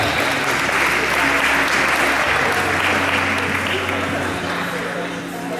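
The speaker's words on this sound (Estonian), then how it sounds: "Ning aplausos võistlejatele aeglase valsi suletajale." Applause for competitors at a ballroom dance competition after a slow waltz, a dense, sustained clapping crowd in a hall with an announcer's voice speaking over it.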